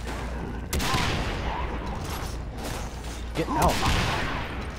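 Gunfire in the Far Cry Blood Dragon shooter game, loud bursts of shots and impacts with a short shouted voice line, dense chaotic combat noise throughout.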